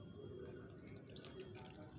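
Water pours and trickles into a plastic container around a plastic bottle, a soft continuous liquid splashing with light drips, fairly quiet and close, with no voices.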